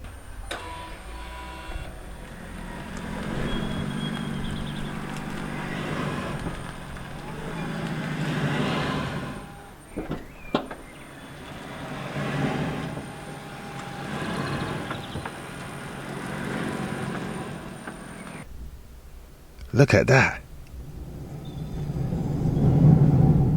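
A Volkswagen hybrid car with rusty brakes creeps along in pure electric mode, giving a faint steady high whine over a low hum. A voice speaks briefly, and a short clunk comes near the end.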